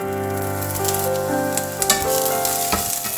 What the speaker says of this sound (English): Then add the minced garlic and continue to stir fry